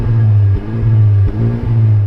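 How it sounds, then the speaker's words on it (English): Honda Civic Type R petrol engine revving hard at a sound check, a loud close drone cut into four repeated bursts by brief dips in quick rhythm, with no talking. "Let's hear the Civic rev."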